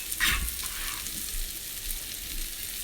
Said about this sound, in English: So now all the bacon just goes right into your pan.